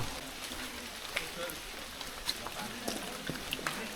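Soft, steady patter of monsoon rain falling in a forest at Malshej Ghat, with scattered droplet ticks, fairly quiet and continuous, in an open outdoor setting.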